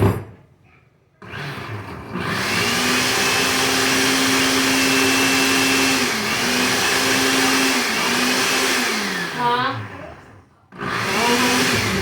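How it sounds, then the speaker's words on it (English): A blender whirs loudly and steadily after a brief pause, crushing Flamin' Hot Cheetos, its motor pitch dipping and shifting as it churns, then stopping and starting again. "Get your stuff blend. Get it blended."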